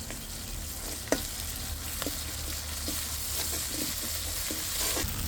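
Onions browning in hot oil with ginger-garlic paste added give a steady, close sizzle, broken by scattered clicks and scrapes of a stirring spoon and one sharp knock near the start.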